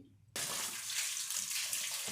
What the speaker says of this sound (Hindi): अब मैं इसे ड्रेन कर लूँगी और उसके ऊपर से ठंडा पानी बहा दूँगी।